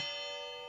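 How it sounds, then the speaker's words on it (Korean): Church bells ringing on Christmas morning, a sustained bright metallic tone with rich layered overtones, ringing steadily and slowly fading, with no voices. "잠시 후 교회에서 울려 퍼지는 종소리도 들렸어요."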